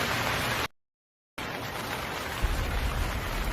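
Steady rain hiss, fairly soft and continuous, cut by a brief silent gap before resuming with a low rumble underneath.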